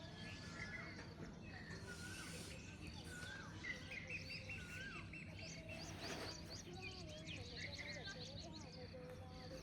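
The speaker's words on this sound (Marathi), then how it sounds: "पक्ष्यांचा किलबिलाट, कोंबड्यांचा आवाज." Birds chirp and twitter around a village at dawn, with scattered calls from near and farther off over a soft rural background hum and faint insect noise.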